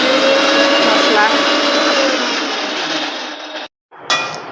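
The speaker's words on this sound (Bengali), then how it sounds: "এখানে তোমার দাদাভাই মিক্সিতে মশলাটা আমাকে করে দেবে" An electric mixer grinder grinding spice masala at home, a loud close whirring drone that fades slightly and cuts out for a moment before starting again. A voice is faintly heard under the motor.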